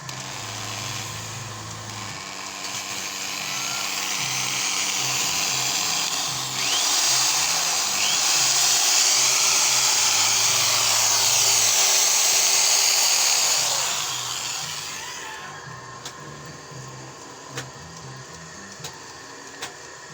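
Arc welding runs off a homemade free-energy generator: a loud, steady buzzing hiss holds for about twelve seconds, then drops to a low hum with a few sharp ticks.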